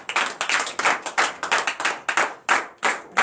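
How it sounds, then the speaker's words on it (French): A church congregation at a Saturday morning prayer service in Benin claps in loose, rhythmic bursts, sharp and close, with short pauses between the groups of claps. "Donnez l'acclamation à l'Éternel."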